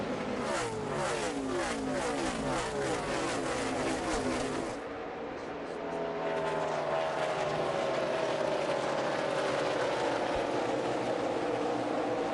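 NASCAR Xfinity Series stock cars race side by side at Chicagoland, engines roaring loudly as they pass close, then the pitch drops into a fading, receding whine as the cars pull away.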